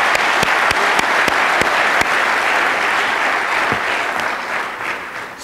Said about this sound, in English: So, let's give a round of applause to everyone I introduced.